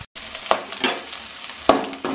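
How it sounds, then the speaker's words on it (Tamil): Grated carrot is stirred and sautéed in a pan with curry leaves, onion and green chilli, giving soft sizzling and a few sharp spatula scrapes close up, with no talking. "இதை நல்லா வதக்கிட்டு இந்த கேரட் துருவலை போடுவோம்."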